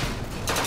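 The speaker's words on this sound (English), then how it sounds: "Yeah, this is a 3-round burst." Burst of automatic gunfire from a three-round burst weapon in Bioshock Infinite: Burial at Sea, a short, dense crackle of rapid shots that grows sharper toward the end, with no talk over it.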